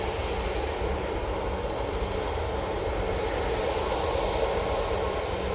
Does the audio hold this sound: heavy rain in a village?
no